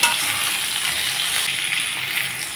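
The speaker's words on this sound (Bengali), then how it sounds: "এখন দিয়ে দিচ্ছি পটলগুলো। আবারও আমি 2-3 মিনিটের মতো ভেজে নেব।" Potatoes and pointed gourd frying in oil in a pan give a steady, dense sizzle with soft bubbling, continuous and close, with no voices over it.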